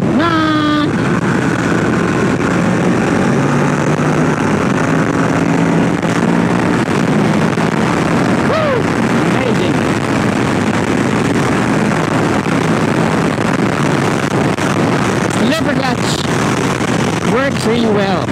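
A Kawasaki Ninja 650 motorcycle ridden on winding roads, engine droning loud and continuous with wind rush, revs rising and falling through downshifts, a voice talking over it.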